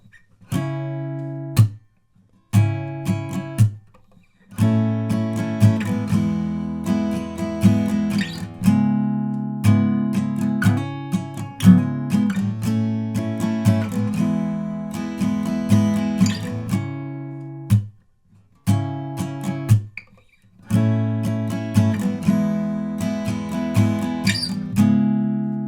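Acoustic guitar plays the second verse of a song, strummed chords in a repeating rhythmic pattern with brief muted gaps between phrases, close and alone.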